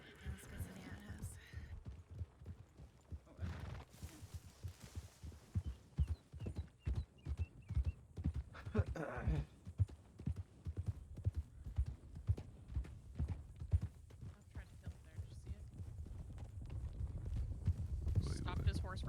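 Horse hooves clip-clopping in the Red Dead roleplay video game, a steady rhythmic trot of close, distinct hoofbeats that grows louder toward the end, with a short whinny and people talking over it.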